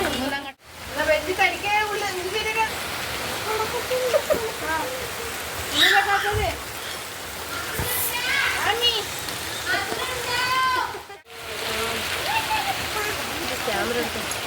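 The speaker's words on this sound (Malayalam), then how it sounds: "ഇപ്പൊ പുറത്ത് നല്ല മഴ പെയ്യുന്നുണ്ട്" Heavy evening rain falls outside as a constant broadband hiss beneath a family's voices, with children talking and calling close by throughout.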